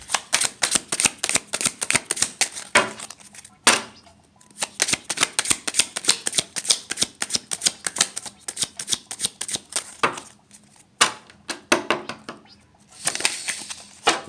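A tarot card deck is shuffled and cut close by, with rapid riffling bursts separated by brief pauses and sharp taps as the cards are squared and split.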